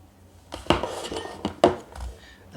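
Wire for the rear lights of a Bruder RC jeep conversion gets bent and snipped, giving a few sharp close metallic clicks and clinks spaced irregularly in a quiet room.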